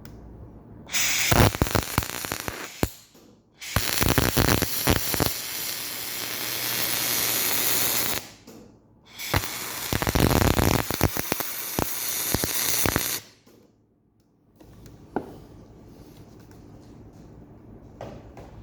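Simple non-TIG welding of aluminium for a van bed drawer track, a close, harsh, crackling spray-like hiss in several long bursts separated by short pauses.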